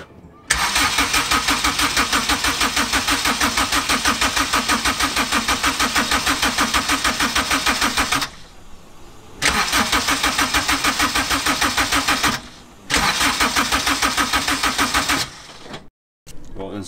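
A Honda Integra DC5 engine, being fitted with a turbocharger, cranks over in long, loud, rhythmic bursts with pauses between attempts, straining to start but never quite catching.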